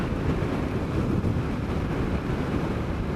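Continuous loud wind buffeting against the microphone while riding a dual sport motorcycle in Tasmania's Central Highlands, a dense roaring rush with no breaks or voices.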